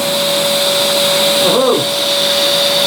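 A workshop dust collector runs steadily and loud throughout, a constant whine and broadband roar in a setting where holes are being drilled for a hand screw kit; a brief voice sounds partway through.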